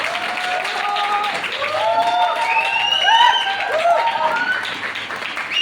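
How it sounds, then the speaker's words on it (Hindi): Audience applause with whistles and cheering at a large stage show, a steady roar of clapping punctuated by high shrill whistles and shouts across the whole stretch. "तालियों के गड़गड़ाहट से"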